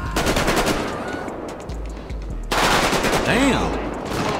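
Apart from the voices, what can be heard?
gunfire in the video game GTA 5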